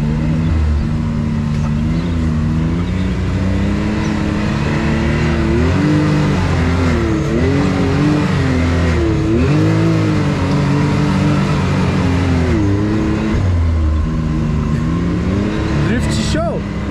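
Can-Am Maverick X3 RS UTV engine revving loud and close as the vehicle slides and drifts on a Serra da Bocaina expedition trail, pitch rising and falling repeatedly, with voices talking over it.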